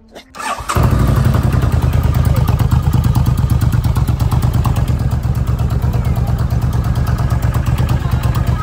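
A large motorcycle engine cranks and catches in under a second, then runs loud and close with a steady, throbbing idle for the rest of the clip.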